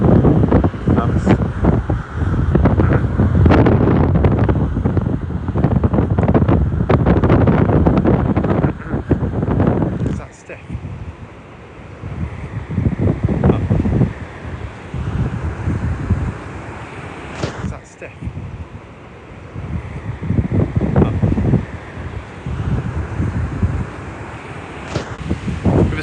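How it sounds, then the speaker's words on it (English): Wind gusts over choppy sea waves at Protaras, Cyprus, give a loud, steady roar of microphone buffeting and surf, with brief lulls between surges. "So it's a bit windy today. The sea's a bit choppy."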